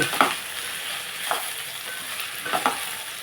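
Okra fries in an open pan with the lid off, a soft, steady sizzle at moderate distance punctuated by a few scraping stirs of a spatula, with no talking.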